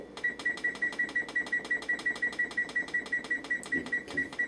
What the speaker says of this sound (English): Set the timer for 30 minutes.